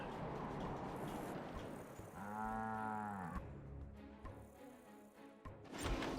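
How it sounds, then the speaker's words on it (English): A giant cow in the real-time strategy game Command & Conquer Generals Zero Hour lets out one long, loud, drawn-out moo lasting about a second, over busy battle noise. "The giant cow is fine, just in case you wondered."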